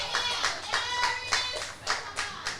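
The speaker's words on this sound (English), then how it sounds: "You could hear the crowd cheering." Spectators at an under-15 youth cricket match between St Vincent and the Grenadines and St Lucia clap in scattered, uneven bursts, a modest crowd applauding at some distance with faint commentary murmuring underneath.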